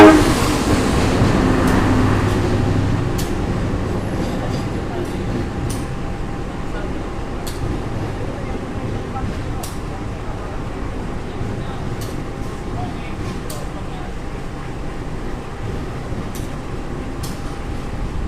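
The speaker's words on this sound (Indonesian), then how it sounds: "Kereta api Putri Deli ini juga membawa gerbong bagasi" Putri Deli passenger train with a baggage car rolling along, heard from inside as a steady loud rumble with rhythmic rail clicks throughout, louder at the start.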